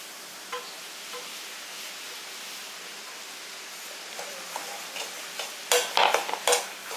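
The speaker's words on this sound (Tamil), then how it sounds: "ரவையை நெய்யிலே தான் வறுக்கணும்." Semolina roasts in ghee, heard as a steady low sizzle with a few light taps. Stirring and scraping against the pan grow busier and louder toward the end, and no one speaks.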